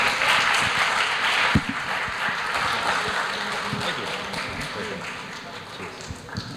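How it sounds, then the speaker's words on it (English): A live audience claps for visual effects industry speaker Dayne Cowan at the close of an evening talk, a steady wash of applause with a few sharper individual claps, moderately loud throughout. "Let's give him a round of applause."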